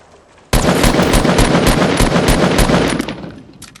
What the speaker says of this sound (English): We won a minigun only, and it's a freaking good gun.